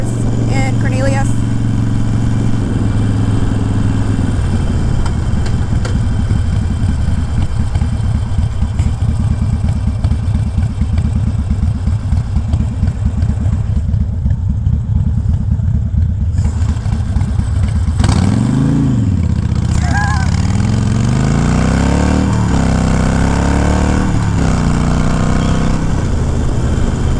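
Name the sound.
motorcycle engine while riding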